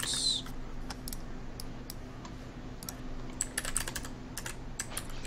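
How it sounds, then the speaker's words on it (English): A KBDFans Nui 40 prototype mechanical keyboard with a planck layout is typed on, giving a close, irregular run of crisp clacking keystrokes that grows busier toward the end. "This is the Nui 40 plank layout keyboard by KBDFans."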